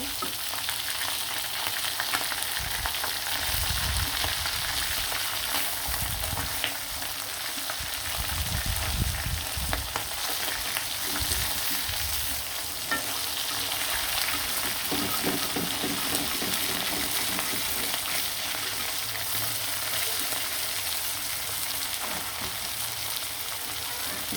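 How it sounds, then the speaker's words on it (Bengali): Hilsa fish pieces frying in a pan produce a dense, continuous sizzle that holds steady and close, with low stirring thumps and scrapes now and then underneath and no talking. "সবগুলো মাছ আমি মিশিয়ে আবার অপর দিয়ে ভালো করে একটু ভেজে নেব"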